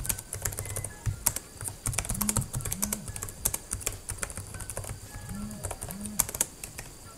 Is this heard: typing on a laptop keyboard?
yes